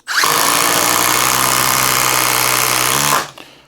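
A Flex power tool drives a 5-inch lag screw in one continuous, loud, close whirring burst of about three seconds, with a steady motor hum that cuts off sharply and then winds down briefly.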